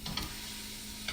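Butter sizzles hard in a pot for a crab boil, a dense close crackling fry with a couple of small clinks of a utensil.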